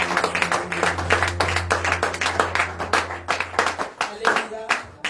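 A church congregation claps in a steady rhythmic beat, close and lively, with voices and a sustained musical tone underneath during a French-language worship service.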